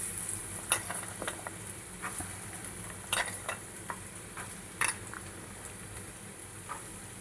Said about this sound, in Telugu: ఇప్పుడైతే చిన్నగా కట్ చేసుకొని పెట్టుకున్న క్యారెట్ అయితే వేసుకుంటున్నా.